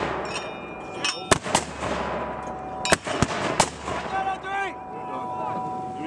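An artillery section fires during the Resolute Dragon exercise, a series of loud, sharp blasts booming out several times at irregular intervals across an open outdoor range, with voices calling commands between shots.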